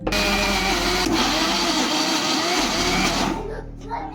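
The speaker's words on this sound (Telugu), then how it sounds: "ఇంకా ఇవన్నీ ఒకసారి జార్లో గ్రైండ్ చేసుకుందాం" A mixer grinder jar grinds spices with a loud, close, steady whirring motor roar that runs for about three seconds and then winds down near the end, with no talking.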